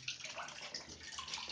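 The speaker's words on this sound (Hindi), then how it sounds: "ये देखिए लाइन में पानी ठीक ठाक आने लगा" Water running from a household tap after an electric geyser repair, a steady broad splashing rush with slight gurgles, close and fairly soft, no voices.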